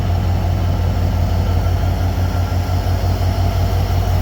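A train rolls past at Narail station, a loud, steady low rumble of heavy wheels and engine drone with rhythmic rail clatter throughout, close by.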